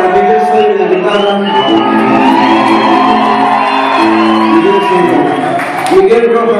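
Concert crowd in Seattle whooping, shouting and cheering loudly for the guitarist, a dense continuous roar with music-like tones beneath.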